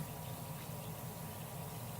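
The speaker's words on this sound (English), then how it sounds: "And you can see it's still fizzing in there." A chia seed and hemp oil bath bomb fizzes steadily in water, making a continuous close bubbling hiss with a low watery churn and no talking.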